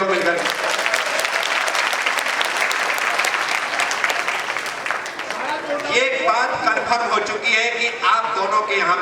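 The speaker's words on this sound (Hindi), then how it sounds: "ताली बजा दो दोनों लोग मिलकर" Loud sustained applause from a large gathered crowd at a religious Chaturmas announcement ceremony in Ujjain, dense clapping throughout that shifts into a more rhythmic, unified beat near the end.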